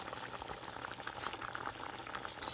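Clear medium tapioca pearls simmering in a pot of water, a soft continuous bubbling and gurgle, faint and steady throughout.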